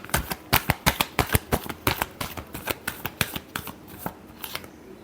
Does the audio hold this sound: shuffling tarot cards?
yes